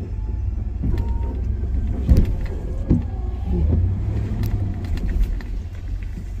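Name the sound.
truck wheels spinning on icy road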